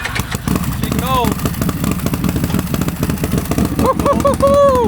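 A cold Can-Am four-wheeler running race fuel on a dyno fires up and runs with a loud, steady mid-pitched engine rumble, while people talk over it throughout.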